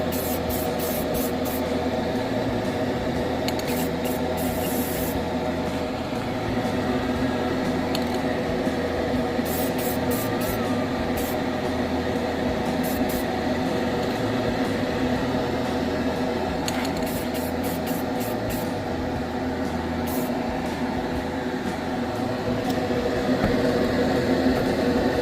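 Spray paint hisses steadily onto a part being cleaned up from a swap meet find, with a continuous airy spray running throughout and a few brief clicks and higher bursts.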